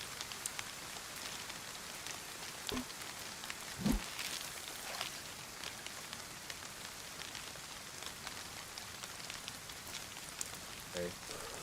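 Rain in the DayZ video game, a steady hiss of falling rain and pattering drops, fairly faint, with a few brief clicks and no talk.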